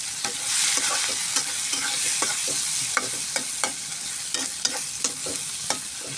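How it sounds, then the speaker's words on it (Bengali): Onions fry into birista in leftover potato-frying oil, a loud continuous sizzle close up, broken by regular scraping and clacking strokes of a stirring spatula. "এই আলু ভাজার তেলে আমি পেঁয়াজগুলো বেরেস্তার মতো করে ভাজে নেব, সুন্দর লাল করে"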